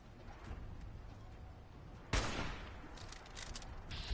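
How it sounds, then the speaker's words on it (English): A shotgun fires in Fallout 4, Far Harbor: one loud, close blast punches through steady game ambience and rings off, with fainter noises after it and no voices. "Probably going to use my shotgun on this bad boy"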